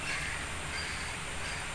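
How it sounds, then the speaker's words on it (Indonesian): A faint, harsh, crow-like call from the so-called death bird sounds at a distance, buried under a constant hiss of background noise. "Itu namanya burung kematian bang."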